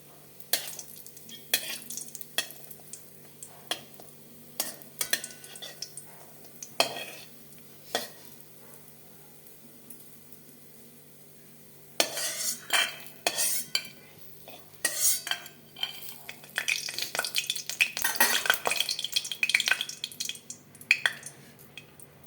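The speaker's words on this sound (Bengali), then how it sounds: "কড়া দিয়ে দিলাম সর্ষের তেল তেলটা গরম হয়ে গেছে বড়িটা ভেজে তুলে নেব" Lentil bori fries in hot mustard oil in a wok, with intermittent sharp taps and scrapes of a utensil, followed by a louder, crackling burst of sizzling and stirring toward the end.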